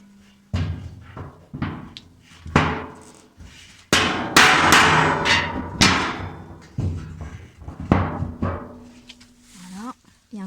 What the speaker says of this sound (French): Le petit coup de marteau, ça va te permettre de rentrer.